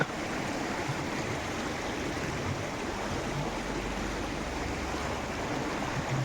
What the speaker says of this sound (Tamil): இந்த சைட்லேருந்து தண்ணி வருது